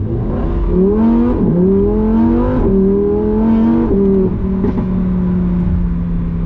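A Lamborghini Huracan Tecnica V10 pulls hard at full throttle, its loud engine climbing through several rising sweeps broken by quick gear changes, heard close from inside the car.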